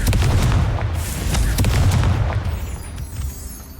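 Confringo fire spell explosions in Hogwarts Legacy go off as a series of loud, close booming blasts and bursts, easing away toward the end.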